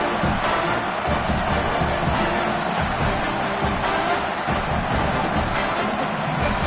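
A college football stadium crowd roars steadily and loudly during an Oregon Ducks game as a field goal attempt nears, a dense unbroken wall of cheering and yelling that fills the whole stretch.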